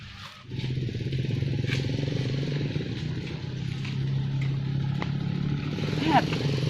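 A small motorcycle used as a village motorbike taxi idles and runs steadily nearby in rural Sunda, with a rough engine drone, a few clatters and a brief rev near the end.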